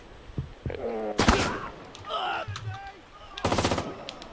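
Video game gunfire bursts out in two loud rapid-fire volleys with a lone shot earlier, mixed in with game sounds and voices talking in between.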